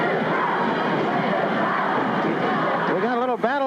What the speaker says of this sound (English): We got a little battle of the cheering going on here right now.